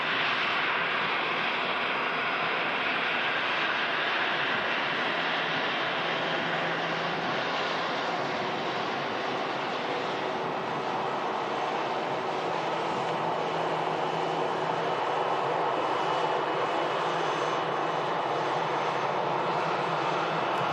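EasyJet airliner engines at Manchester Airport, a continuous broad jet roar that holds steady and loud over the whole stretch, heard at some distance with no talking over it.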